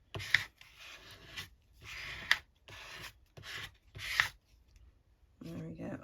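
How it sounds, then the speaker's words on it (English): Scraping and rubbing on a paper dragonfly pocket card, gluey card stock being scraped down in several short rasping bursts with pauses between, fairly close and moderate in level, no talk over it. "I'm going to turn it over for scraping down."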